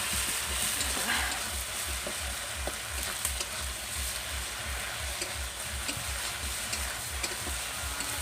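Rohu fish curry with cumin powder sizzles in a pan on a clay stove while it is stirred, a steady frying hiss with soft repeated scraping strokes throughout.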